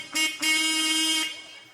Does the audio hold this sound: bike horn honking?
yes